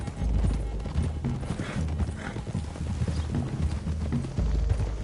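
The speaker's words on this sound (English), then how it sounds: "Can you control that damn horse?" Horse hooves clip-clop steadily along a road in Red Dead Redemption 2, a continuous rhythmic trotting over low rumbling game ambience, fairly close and loud throughout.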